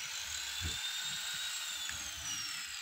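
A lathe turns a scooter's CVT pulley to correct wobble, giving a high, thin whine with faint shifting tones over a low rumble. It is steady and moderately quiet, and no one speaks.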